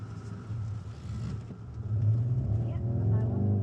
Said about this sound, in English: Whatever the car that flew past was, it must be shifting.